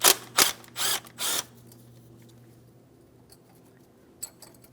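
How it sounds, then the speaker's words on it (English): A power tool or ratchet on the 10mm bolt of a brake hose bracket on a 2007-2014 GMC Sierra 2500 HD gives four short loud bursts, followed by quiet faint clicks and light mechanical ticks. "Just go ahead and remove your 10mm headed mounting bolt."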